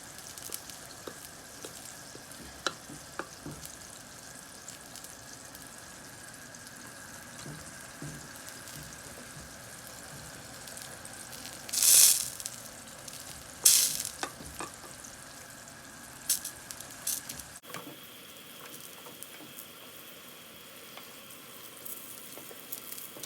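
Adana kebab sizzles in a pan over medium heat, a soft continuous frying hiss with occasional brief louder bursts of spatter, then running water from a tap near the end, no voices heard.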